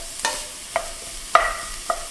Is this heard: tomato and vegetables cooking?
yes